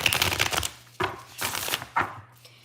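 Tarot cards being shuffled by hand, a few soft riffling and slapping bursts spaced about half a second apart, quiet and close with no voice over them.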